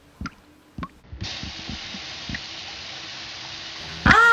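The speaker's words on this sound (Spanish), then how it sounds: "Menos mal que he traído mi manguera y en un momento os daré un churretazo y estaréis listos." Water spraying from a garden hose in a cartoon cleaning scene, a steady hiss running for about three seconds after a few short taps, then a louder splash at the end.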